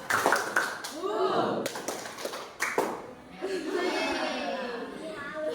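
A group at a training session gives a single sharp clap together on cue, with a few more crisp claps nearby and people talking and chuckling throughout.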